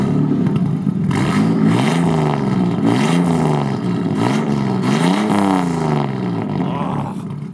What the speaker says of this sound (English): Craigie, start her up, man. Let's hear some 2JZ goodness.